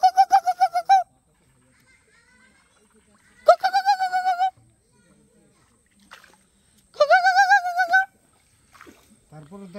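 A kuku bird calls in the Sundarbans mangrove forest, giving three separate bursts of quick, repeated ringing notes, loud and close, with quiet stretches of faint forest background between them.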